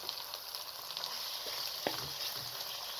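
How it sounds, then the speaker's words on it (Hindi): Minced meat (keema) frying in a pan after onion, garlic and ginger, giving a steady soft sizzle throughout with a single sharper stir or scrape near the middle. "कीमा डालकर आपने कीमे को इतना फ्राई करना है कि इसका कलर चेंज हो जाए"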